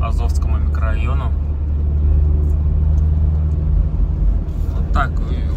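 A car rolls through the Azov neighbourhood with a steady low engine and road rumble, heard from inside the cabin while someone talks over it.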